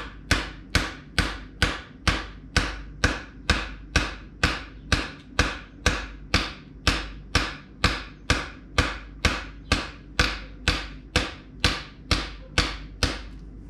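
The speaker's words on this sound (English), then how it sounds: "You get your rubber mallet, and then you just give it a good whack to kind of hammer it in place." A rubber mallet strikes a mountain bike fork in a steady, even rhythm, about twenty-five solid blows in a row, close and loud, with no talking.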